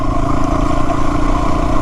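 A Yamaha WR250R motorcycle engine runs steadily at close range, a low throbbing rumble with some rattling, holding an even level throughout.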